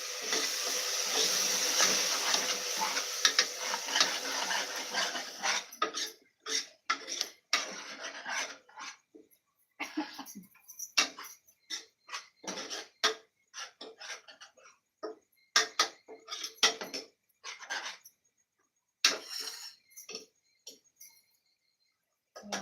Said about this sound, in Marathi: ते टाकते आणि व्यवस्थित असं परतून घेते